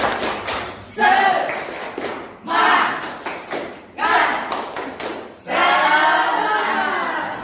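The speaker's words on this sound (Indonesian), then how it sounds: "beri aplaus untuk kita semua" A class applauds in several short bursts, each rising quickly and then fading. The last burst is longer and fuller, with thumps and voices mixed into the clapping.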